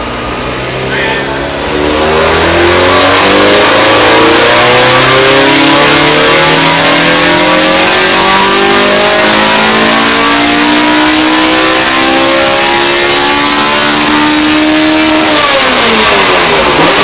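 A naturally aspirated 249-horsepower Honda Integra Type R engine revs steadily higher over many seconds, loud and close, its pitch climbing continuously past 5,000 rpm before dropping briefly near the end.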